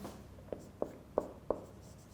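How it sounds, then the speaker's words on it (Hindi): Four faint, evenly spaced taps of a marker or chalk on a board during an online English lecture, quiet and close, with no speech over them. "मैं लिख भी देता हूँ"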